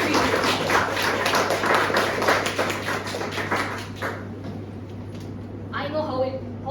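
Scattered applause from a small Toastmasters meeting audience, a brisk patter of hands that thins and fades toward the end, with a voice briefly heard after it.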